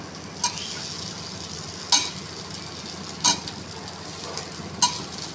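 Taro pieces (kochu mukhi) dropped into hot oil with turmeric and salt in a pan crackle with a soft, constant sizzle, punctuated by four sharp scraping stirs of a spatula at regular intervals.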